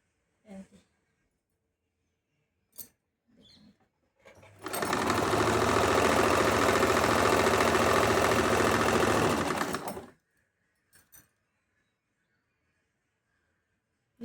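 A sewing machine stitches piping onto a blouse in one loud, steady run of about five seconds, with brief handling knocks and quiet voices before and after.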